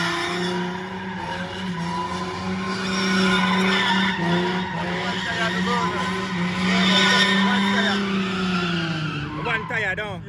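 A car drifting at a car meet in Mexico, tires squealing loudly in a sustained, wavering screech under engine noise, with excited shouting from the crowd.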